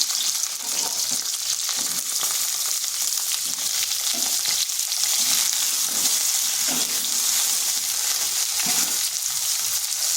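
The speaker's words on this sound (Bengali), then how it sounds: "মিডিয়াম আঁচে ঢাকা দিয়ে আলুটাকে একটু ভেজে নেব।" Two medium potatoes, diced and seasoned with a little turmeric and salt, fry in a covered pan over medium heat, giving a steady, close sizzle that runs without a break for the whole stretch, with no talking.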